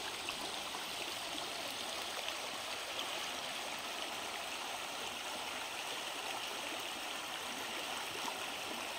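Steady rushing water of a flowing river, a constant broadband wash with no voices, moderately distant and even throughout.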